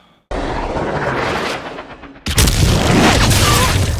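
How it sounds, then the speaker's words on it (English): Loud burst of gunfire from a scene in the TV series Fallout, an abrupt blast followed by sustained booming shots and rumble, then a second heavier volley. "That is a gun."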